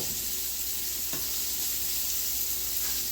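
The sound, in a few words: sherry deglazing a pan sizzling after browning chicken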